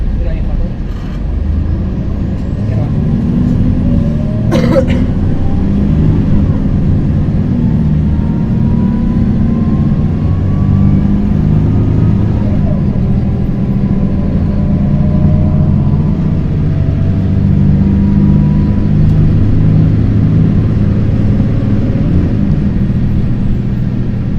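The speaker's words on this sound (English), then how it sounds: "This bus has a ZF gearbox. Let's take a listen to it." A bus engine with a ZF gearbox drones steadily up close in Ibiza, its pitch shifting through the gears, with a brief hiss near the start.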